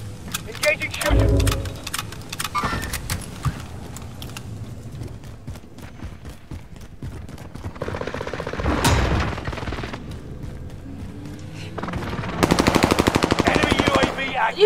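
Bursts of gunfire ring out in a battle royale shooter game, sharp rapid shots scattered through the stretch with a heavier volley near the end, heard alongside other game sounds.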